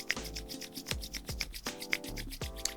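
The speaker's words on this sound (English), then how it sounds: "Put a few drops in your palm and rub it." Drops of lavender oil rubbed between the palms, with close, soft rhythmic rubbing strokes repeating several times in a steady back-and-forth pattern.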